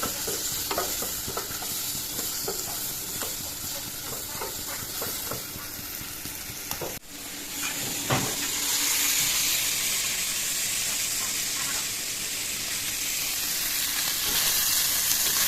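Gorai fish fry in a pan with a constant hissing sizzle. Spatula taps and scrapes come at intervals, and partway through a brief clatter precedes a louder, fuller sizzle with steamy hiss.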